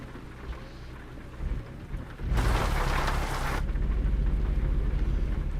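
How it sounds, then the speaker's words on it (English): Steady rain in the video game American Truck Simulator, with a loud roll of thunder breaking over it for a second or so before the downpour continues alone. "It's raining."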